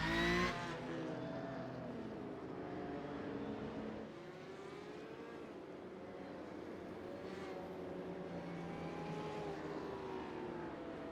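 In the iRacing video game, a Porsche Cup race car spins out at Spa, its engine whining and wavering as the revs swing up and down, with tyre squeal and skidding under steady track noise and no voices.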